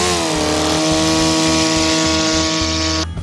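EGO 15-inch cordless string trimmer, brand new, spinning up steadily with a strong sustained whine beside a pool deck, loud and close, cutting off near the end.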